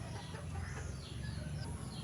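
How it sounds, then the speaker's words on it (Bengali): Layer hens eating a feed of puffed rice, cooked rice, rice flour and wheat flour cluck in short, irregular calls, moderately close, over steady low background noise. "মুরগিগুলো খেতে দিয়েছি তারপরে সবগুলো একসঙ্গে খাওয়া দাওয়া করছি"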